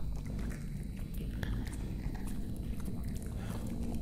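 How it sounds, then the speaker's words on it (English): In the horror video game Terminal Error, set in a research facility, faint crunching and munching repeats as scattered wet clicks over a low, steady rumble. "It's like crunching noise."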